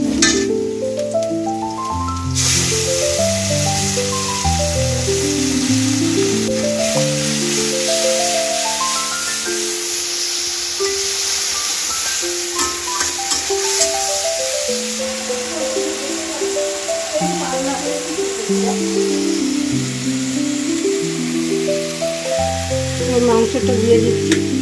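Capsicum and tomato paste fry in a pan with reddened fried onions, a steady hissing sizzle running beneath loud background music throughout.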